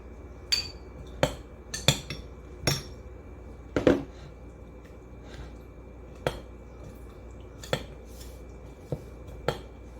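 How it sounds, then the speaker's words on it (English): A spoon clinks against a container while a beef marinade mixture is stirred, a series of sharp, separate metallic taps at an uneven pace over a quiet kitchen background. "And stir all that in really well."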